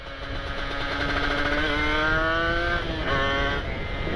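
A Kawasaki Ninja RR motorcycle engine drones steadily while riding a rough road, with rising and falling pitch as it revs and shifts, loud and close, with no talking.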